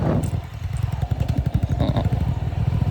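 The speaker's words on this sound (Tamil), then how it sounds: "ஆஃப் ரோடில் ஓட்டிகிட்டு போகிறோம் நாங்கள்" Motorcycle ridden off-road on a rough track, the engine's loud, close, pulsing chug throbbing steadily throughout with faint rattles.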